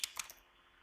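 Three or four quick, light keystrokes tap out on a computer keyboard while code is typed, close and fairly quiet, then fade into silence.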